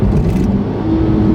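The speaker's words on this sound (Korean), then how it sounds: "되게 엔진음이 호쾌하네요." An Infiniti Q60 with a VR-series engine revs high in manual mode, a loud, close, sustained engine roar with no talk.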